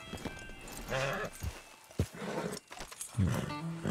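Hooves clip-clop and a horse whinnies in Red Dead Redemption 2 Online, close and moderately loud, with scattered thuds and game sounds around them.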